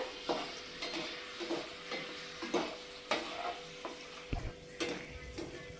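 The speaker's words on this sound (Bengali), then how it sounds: "কারি পাতা বাদাম আর শুকনো লঙ্কা আমি একসঙ্গেই ভেজে নিচ্ছি" Peanuts, dried chillies and curry leaves frying together in a pan, a soft steady sizzle under repeated scraping stirs of a utensil against the metal, close and quiet, with no talking.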